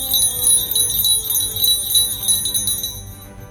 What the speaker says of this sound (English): the bell still rings for me, as it does for all those who truly believe.